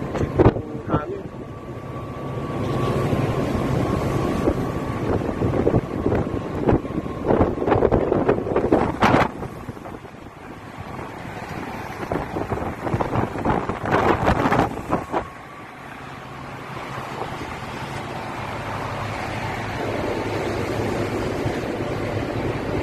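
Strong wind roaring and buffeting against the microphone over the rumble of a boat engine at sea in bad weather, heading to Den Helder port, Netherlands, steady and loud throughout with gusting swells.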